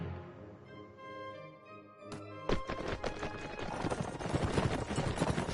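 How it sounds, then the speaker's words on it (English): Horses in the Mount & Blade video game thunder in at a gallop: a sustained tone fades out, then rapid clip-clopping hoofbeats take over and grow louder as many riders charge close together. "It's just basically all horses now riding in with me."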